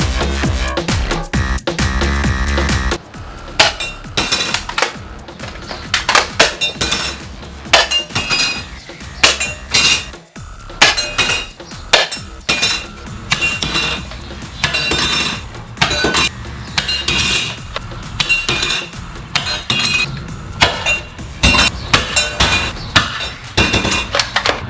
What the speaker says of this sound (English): I'm gonna try shooting those Evike can targets